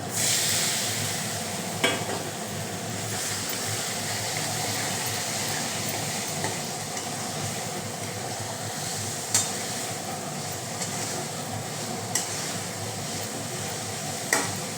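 Mushrooms dropped into spices frying in a pan give a soft, steady sizzle, with a few faint clinks of stirring at intervals.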